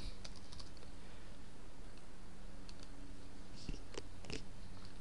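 Computer keyboard typing during Microsoft Access data entry: a run of quick, irregular key clicks close by, with a few louder clacks partway through and no talk.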